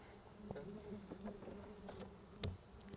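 A faint, steady hum of honey bees buzzing around an open hive, with scattered soft clicks and taps mixed in, quiet and close.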